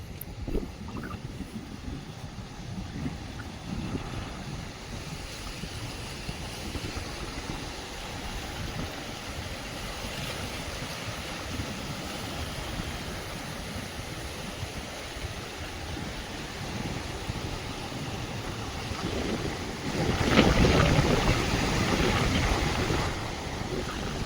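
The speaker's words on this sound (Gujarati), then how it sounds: "ઉપરના ગામમાં જે વરસાદ પડ્યો છે એના હિસાબે થોડુંક પાણી આપણે નદીમાં આવ્યું છે" River swollen with water after rain fell in villages upstream, a steady broadband wash of flowing water close by with wind noise, louder and rougher surging in the last few seconds.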